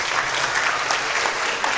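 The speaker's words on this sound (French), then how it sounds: "Je vous demande de les applaudir chaleureusement" Warm applause from a concert audience, a dense steady clapping that fills the whole stretch at even loudness, with no voices on top.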